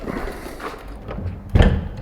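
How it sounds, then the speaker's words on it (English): A classic car door is opened during windscreen fitting, with a single solid clunk near the end after a stretch of low workshop rumble. "open the door."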